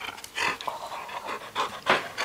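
A puppy pants close by in quick, breathy bursts with an uneven rhythm, moderately loud and alone.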